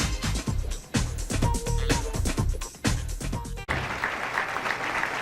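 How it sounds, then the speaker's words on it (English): A burst of audience applause at a 1995 PBA Tums Classic bowling match rises near the end after a stretch of other broadcast sound, broad and moderately loud. "Dave Deantremont, round of applause."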